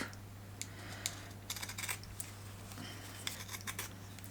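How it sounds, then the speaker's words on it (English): Scissors snip away excess Hessian fabric near stitching in a quiet room, a scattered run of close, crisp cuts in short bursts. "cut off excess fabric, although you don't want to cut too much of the Hessian off."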